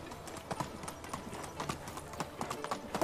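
Horse hooves clip-clopping in the medieval survival game Medieval Dynasty, a steady run of soft hoof knocks repeating at an even walking pace behind a low background murmur.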